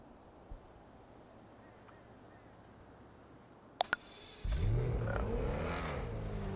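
Engine of a BMW on a test drive in a QBCore vehicle shop game, quiet at first, then after two sharp clicks a loud, steady revving drone rises and holds to the end.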